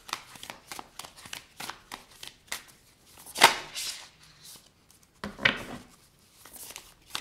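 Slippery tarot cards being shuffled and handled up close, a run of quick soft flicks and rustles with two louder riffle bursts, fairly quiet with gaps between.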